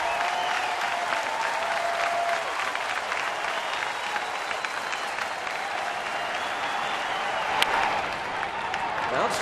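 Big crowd at a Milwaukee at Pittsburgh baseball game roaring steadily through a long at bat, a dense sustained cheer with whistles and shouts, loud and continuous for the whole stretch with one sharp spike near the end.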